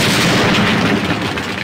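Pistol gunfire from the player's unlimited-ammo handgun in the Indiana Jones video game, a loud, dense burst of booming shots packed closely together, dominating the whole short stretch with no voices.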